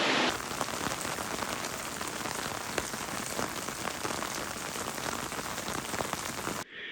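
Heavy rain pouring down along the Via Francigena pilgrimage route, a loud, dense, steady hiss of drops on surfaces with no voices, continuing unbroken until it cuts off at the very end.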